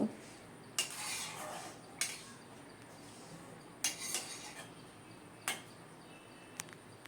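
A spoon stirs jackfruit and potato curry in a pan, giving a few sparse metallic clinks and scrapes against quiet background noise.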